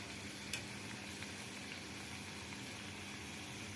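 Pumpkin and jaggery fritters fry in hot oil with a faint, steady sizzle and a few soft pops. No one speaks.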